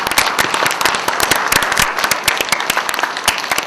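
Crowd at a formal gathering of an international disability cultural exchange association giving the chairman a hearty round of applause, dense sharp clapping throughout at a steady level.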